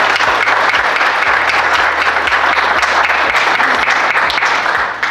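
Event audience applauding loudly, a thick sustained roar of many hands clapping close up, even in intensity before tapering slightly at the very end.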